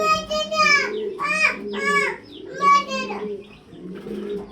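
German Beauty pigeons at a breeding farm coo in repeated rounded phrases, close and fairly loud, with someone talking over them.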